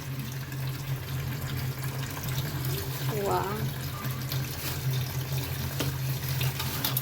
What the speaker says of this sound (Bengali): তো এই মাছটা এখন রান্নাবান্না হবে, আমি একটু ধুয়ে নিচ্ছি।